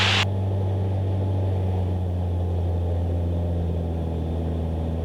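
Steady droning hum of a light training aircraft engine in flight after power is reduced to 2,000 rpm, constant and even in the cabin with no talk, following a brief sharp click at the start.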